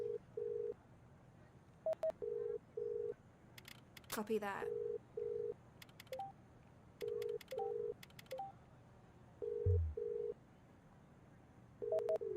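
In a game jam video game, repeated telephone ringing and dial tones pulse in short, regular bursts, with a voice briefly speaking over them.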